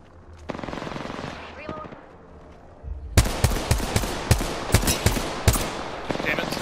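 Rapid bursts of automatic gunfire in a shooter video game, a quieter stretch of distant shots and faint voices giving way to loud, close repeated volleys with sharp individual cracks.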